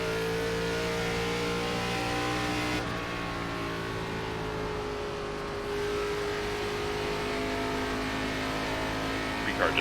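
An ARCA stock car engine in iRacing at Rockingham, holding a steady, loud, high drone with a sustained harmonic whine and slight pitch shifts. It runs continuously and fills the scene, with no talk.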